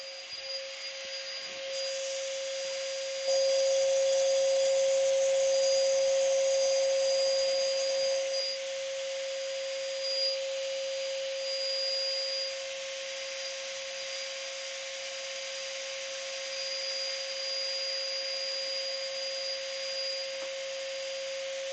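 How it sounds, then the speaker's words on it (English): Power sanding with a powered sander: a steady, high electric whine with a constant hum runs throughout, briefly louder in the middle, then settling to an even drone, close and without talk. "So there's our sanding done"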